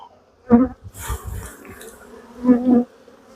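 Honeybees buzz close by at a beehive, with a few short loud passes and quieter buzzing between them.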